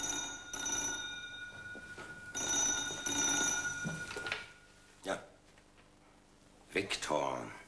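A telephone bell rings in a radio play, with trilling rings in separate bursts, mixed in with spoken dialogue between the rings.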